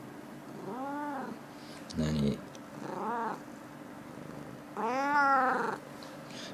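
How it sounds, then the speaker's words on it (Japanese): A pet cat purring up close, its low rumble carrying beneath several drawn-out plaintive meows, with a person briefly speaking between them. "ゴロゴロ言ってるけど、"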